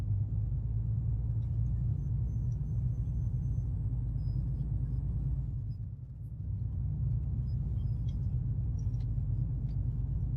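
A truck engine in Euro Truck Simulator 2 rumbles with a low, steady drone while driving, dipping briefly partway through before resuming at a constant level, with no talking.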